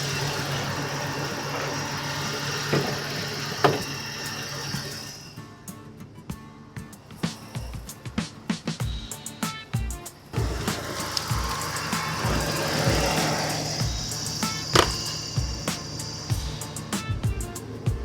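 A 1989 truck engine runs at idle while its battery charges, giving a steady low mechanical hum with scattered sharp clicks and knocks from the engine bay. The sound is close and moderately quiet, with no talking.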